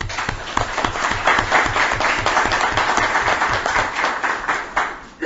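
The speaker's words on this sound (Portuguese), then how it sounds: "Queria dar uma salva de palmas ao Tuninzão." A group applauds during an extraordinary session of a municipal council, steady clapping in a fairly even rhythm from several people in a room, holding for a few seconds before tapering off.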